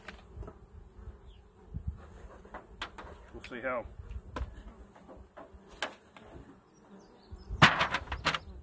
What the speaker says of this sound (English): the bees are very busy today, for sure